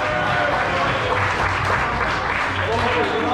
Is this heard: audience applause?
yes